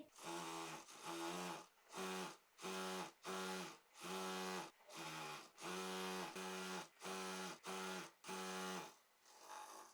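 A sewing machine stitches dupatta fabric in a long series of steady, loud whirring runs, each separated by a brief pause as the work is adjusted, close to the listener.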